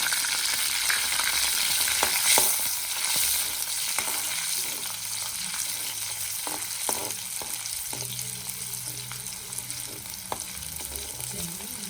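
Crushed ginger and garlic fry in oil for a biryani, making a loud, even sizzle throughout with scattered sharp spatters and small scraping sounds from stirring, and no voices.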